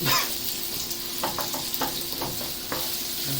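Meat for spaghetti bolognese sizzles steadily in a hot, smoking pan, a constant frying hiss broken by several light scrapes and taps of a utensil as it is stirred.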